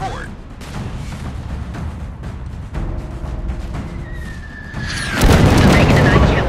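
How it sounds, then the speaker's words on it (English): Battleship gunfire support in the video game Battleship sends deep booms and rumbling explosions under ongoing radio chatter, building to a louder, heavier blast near the end. "Missouri delivering gunfire support."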